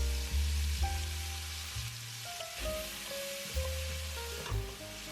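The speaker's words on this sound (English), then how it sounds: "add the chopped veg into all that lovely bacon juice. We're going to cook that gently until it's all soft and lovely and caramelised" Chopped vegetables fry gently in bacon fat in a pan, producing a soft continuous sizzle with occasional stirring, and sustained musical tones sit underneath.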